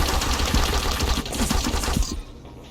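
Rapid automatic fire from a turret in Deus Ex: Invisible War, a loud dense rattle of shots that runs steadily for about two seconds and then cuts off abruptly.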